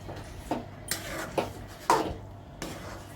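A spoon stirs salted, marinated chicken masala in a metal pot for butter chicken biryani, making several distinct scraping clinks spaced about half a second apart, close and moderately loud.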